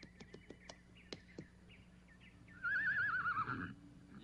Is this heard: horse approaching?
yes